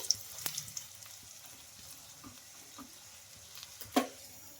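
A potato patty fries in a pan, cooked on both sides: a steady low sizzle with a few light clinks and stirring touches, one sharper scrape near the end, close and quiet.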